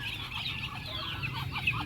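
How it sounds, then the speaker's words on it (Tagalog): Backyard chickens cluck in a short burst of overlapping calls, moderately close against a faint steady background. "Ayan yung mga manok natin"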